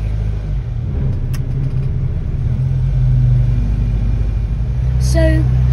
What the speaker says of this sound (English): So this is how it drives while it's doing cold.